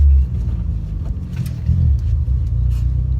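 An Abarth 500 hatchback's exhaust drones and rumbles steadily from inside the cabin, swelling slightly as the engine pulls, with no talk over it.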